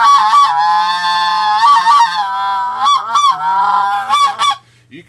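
A Triad Killer goose call blown by hand, producing loud, close honks and clucks in a steady series of short goose-like notes with no talking.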